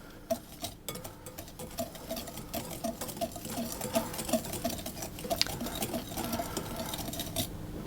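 Dry sugar, flour and salt being stirred together in a bowl for passion fruit bars, a soft steady patter of scraping and tapping against the bowl, close and fairly quiet, with no talking.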